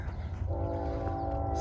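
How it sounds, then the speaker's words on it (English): A distant train rumbles low and steady, with a faint sustained horn tone rising partway through. "you can hear the train down there. It's being noisy this morning."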